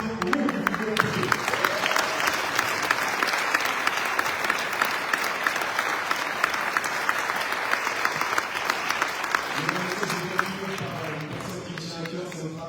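An audience at a disability sport and work congress at UNESCO in Paris gives loud, continuous applause for a football goalkeeper being introduced, the dense clapping holding steady, with voices and cheers mixed in.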